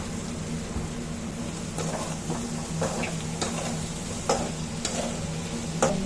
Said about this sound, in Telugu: నేను గోబీ ఫ్లవర్ బాయిల్ చేసి పెట్టుకున్నాను ఇప్పుడు ఇది వేసి ఫ్రై చేసుకుందాం